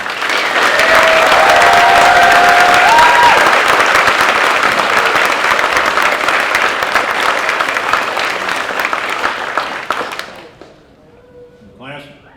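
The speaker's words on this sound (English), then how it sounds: "Ladies and gentlemen, let's give all these firefighters a round of applause." At a fire academy graduation, the crowd gives sustained loud applause and cheering for the new firefighters; it slowly thins and cuts off near the end, leaving a few voices and scattered sounds.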